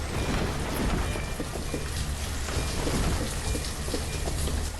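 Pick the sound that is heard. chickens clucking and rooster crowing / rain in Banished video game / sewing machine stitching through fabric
rain in Banished video game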